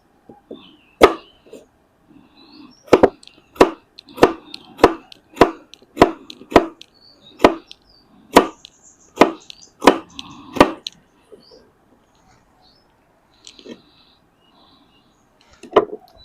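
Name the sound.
chopping ingredients smaller with a knife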